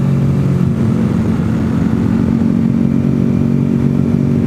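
A Honda VFR Interceptor Deluxe carries two riders on Michelin Pilot Road 4 GT tires. The engine gives a steady, loud mid-pitched drone mixed with road and wind rumble, holding even throughout with no shifts or pauses.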